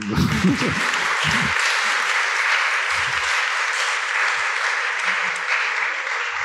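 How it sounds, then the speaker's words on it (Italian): An audience at an Italian talk applauds in a steady, dense wash of clapping, with brief low voices and laughter underneath at the start. "Io farei un applauso."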